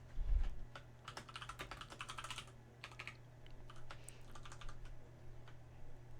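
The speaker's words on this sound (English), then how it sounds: "I'm typing up a list for Enigmas because this sketch is basically done" Someone types on a computer keyboard in irregular bursts of quick clicking keystrokes with short pauses between them. The typing is quiet and close, over a low steady hum, with no speech.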